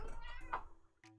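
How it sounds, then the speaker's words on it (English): A pet cat meows once, a clear mid-length meow up close, with a person's voice speaking softly around it. "My kitty cat."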